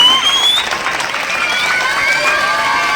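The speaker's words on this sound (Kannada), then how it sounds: "ಅವ್ರಿಗೆ ಜೋರ್ ಚಪ್ಪಾಳೆ ತಟ್ರಿ ಎಲ್ಲ ಅಂಗಡಿಯವ್ರಿಗೆ" Village audience clapping loudly for local shopkeepers at a gathering, a steady dense applause with some cheering and murmured voices, close and continuous.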